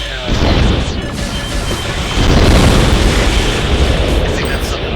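Vertical launch missiles explode in Armored Core 2, a loud sustained wash of blasts and rumbling booms that swells twice, filling the whole stretch.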